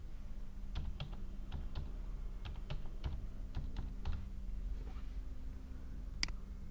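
Light, irregular keystrokes on a computer keyboard, typed in short bursts with gaps between them over a steady low hum, close and fairly quiet.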